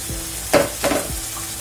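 Beans and rice being stirred in a pot for a Black Sea-style fasulye dible: a few soft scraping, sizzling strokes of a spoon, close and moderate, with no talking.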